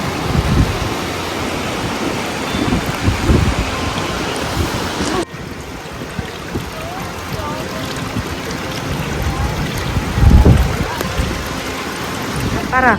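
Steady rain pours down outdoors at Malampuzha in Kerala, a dense, continuous hiss and wash of water that briefly dips midway and then swells again, with voices talking faintly underneath.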